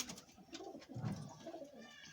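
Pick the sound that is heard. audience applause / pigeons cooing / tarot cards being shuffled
pigeons cooing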